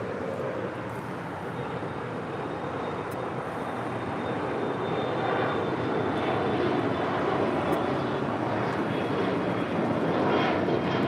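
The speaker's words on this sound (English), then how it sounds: "That flight's Alaska SkyWest, flight 3342, heading to SFO on that E175 LR." An Alaska SkyWest Embraer E175 LR jet at Los Angeles International Airport gives a continuous, broad engine roar on an overcast early morning, holding steady and swelling slightly over about eleven seconds with no talk.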